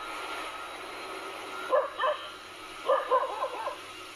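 Dogs bark in a creepy scene, one pair of sharp barks and then a quicker burst of several yips, fairly close over a quiet background hum.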